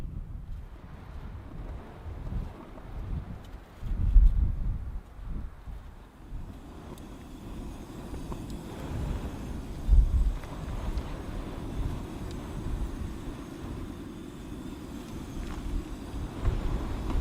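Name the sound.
wind blowing outdoors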